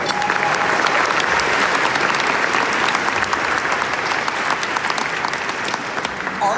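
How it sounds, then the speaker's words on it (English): An audience at an evening honoring ceremony claps in sustained, dense applause, loud and even throughout with scattered sharper claps standing out. "Can we get another round of applause"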